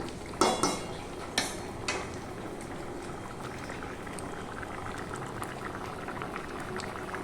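A pot of lentil dal with soybean and pointed gourd bubbles at a gentle boil, with a few clinks and scrapes of a spoon stirring early on, then a steady soft simmer with no talk.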